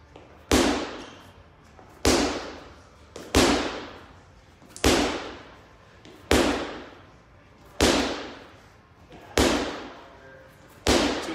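Medicine ball slams in a workout circuit, eight loud, booming impacts spaced about every one and a half seconds, each with a short echoing decay in a large room.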